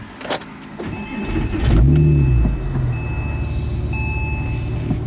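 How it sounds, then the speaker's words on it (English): A 2007 Porsche 911 Carrera Targa 4S with manual gearbox and an AWE exhaust is driven. The engine note is loud and close and rises steadily to a peak, then settles into a steady drone, and a repeating electronic chime sounds over it. "So let's take it for a drive and see how it does."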